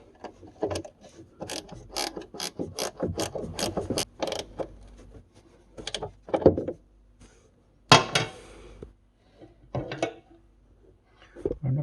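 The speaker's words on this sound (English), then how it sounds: "Can I get this little ratchet spanner on there?" A small ratchet spanner clicks in quick bursts of rapid ratcheting while tightening a drop link on a VW Caddy 2K, pausing between strokes, with louder metallic knocks and some voices nearby.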